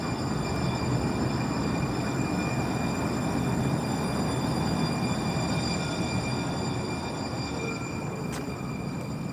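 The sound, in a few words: train passing in Charlotte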